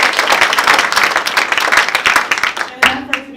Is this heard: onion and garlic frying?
no